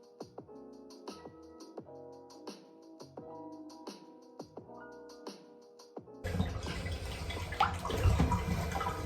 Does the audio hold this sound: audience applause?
no